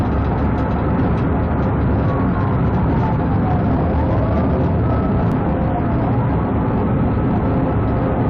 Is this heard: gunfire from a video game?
no